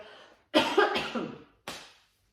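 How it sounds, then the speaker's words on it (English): A few sharp coughs close up: one faint burst, then a loud rough double cough, and a final shorter cough after a brief pause. "that is a dust cough or a glitter cough."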